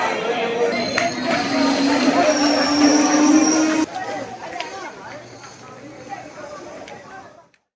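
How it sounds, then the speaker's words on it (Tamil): A crowded train sits at Tambaram railway station during the Pongal holiday rush, with steady rail rumble and passenger chatter. A high squeal runs under the noise before it drops to a quieter murmur and then fades out. "தாம்பரம் ரயில் நிலையத்தில் பயணிகள் கூட்டம் அலைமோதியது."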